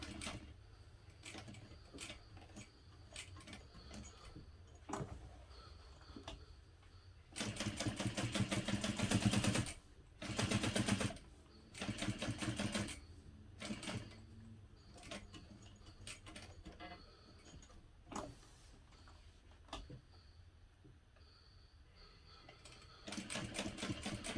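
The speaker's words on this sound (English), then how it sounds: "I'm top stitching using a 1/8 inch seam allowance" A sewing machine top stitching a hobo bag at a long stitch length, with quiet ticks and handling, then loud bursts of rapid running stitches at a close range, no talk.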